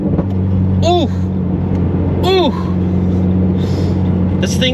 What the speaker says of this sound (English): let me try a 5th to 4th downshift